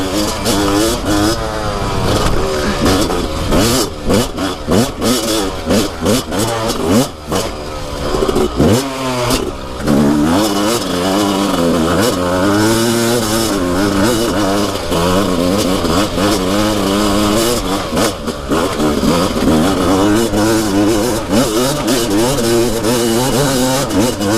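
A dirt bike engine revs hard and continuously while riding on a dirt hill, its pitch rising and falling with throttle through a loud, sustained run with no talk.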